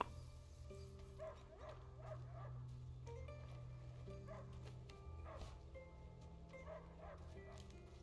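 A dog barks and yips in a wooded area in the game Sally Face, sounding in short bursts of several barks spread across the stretch over a low steady background hum.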